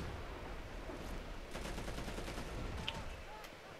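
Gunfire in the Crackdown 2 co-op campaign, a faint, rapid clatter of automatic shots rattling in bursts against a noisy background of game ambience.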